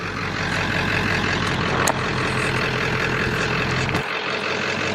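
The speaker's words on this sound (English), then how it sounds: "I'll always let my pickup idle for like 10-15 minutes just to kind of cool everything off." A pickup truck idles at a camp spot after a backroads trail drive in Montana, a steady low engine rumble close by, with a brief hiss near the middle and the engine cutting out near the end.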